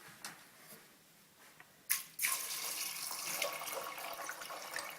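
Water is poured from a tap into a pot of soaked beans with salt and bay leaves, a steady close rushing splash that starts abruptly after a few faint knocks.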